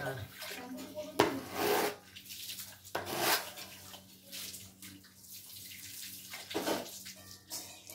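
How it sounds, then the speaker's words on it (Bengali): Water poured from a mug over a person during bathing, several separate splashing pours onto a body with bursts of gushing and dripping between them, close and moderately loud. "এই দেখো এক মগ করে বাবার গায়ে জল ঢালছি"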